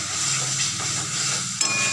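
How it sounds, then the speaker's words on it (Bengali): Cauliflower leaf paste fries in hot oil with a steady dense sizzle, stirred briefly near the end. "তেলটা গরম হতে বাটাটা দিয়ে দিয়েছি, দিয়ে একটু মিষ্টি দিয়ে শুকনো শুকনো করে নামিয়ে দেবো"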